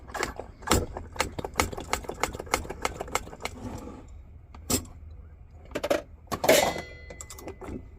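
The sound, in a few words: pump on a Chinese stove being pumped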